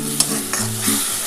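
Masala for a dhaba-style egg curry sizzles in a pan while a spoon scrapes and stirs it in a few quick, close strokes, with no voices.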